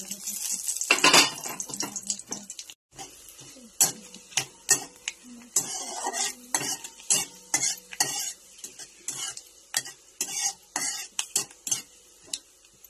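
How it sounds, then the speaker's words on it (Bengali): Spice tempering dropped into hot oil for tomato chutney, crackling and sizzling close by with frequent sharp pops and utensil clinks, a short pause near the three-second mark, no voices. "এই গরম তেলের মধ্যে আমি এই যে ফোড়নটা দিয়ে দিলাম"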